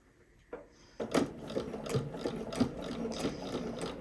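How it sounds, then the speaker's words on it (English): A sewing machine stitches the top seam of a Haskell shirt, right sides together at a half-inch allowance, starting after a brief pause and then running as a steady, close mechanical whir with faint rhythmic clicking. "we are going to sew down just our tops here, right sides together"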